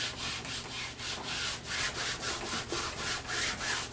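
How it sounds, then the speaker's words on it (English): Repeated rhythmic rubbing strokes as a cloth wipes down a black canvas holding a sealed acrylic pour painting, a soft steady swish close by with no talking. "Now I'm going to wipe it back down and get off any."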